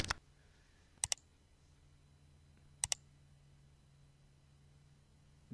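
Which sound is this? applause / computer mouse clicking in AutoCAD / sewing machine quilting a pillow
computer mouse clicking in AutoCAD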